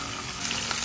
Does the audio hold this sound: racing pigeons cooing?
no